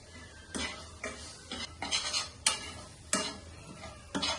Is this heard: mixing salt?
yes